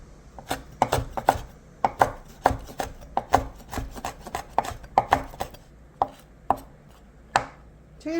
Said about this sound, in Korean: 고추도 반 자르고 이렇게 송송 썰어주세요.